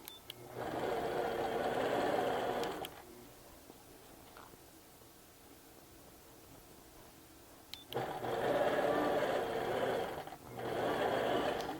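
A sewing machine stitches fabric in two long runs, steady whirring bursts near and loud with a quiet pause between them.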